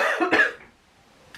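A single close cough, a short harsh burst followed by a faint breath and quiet.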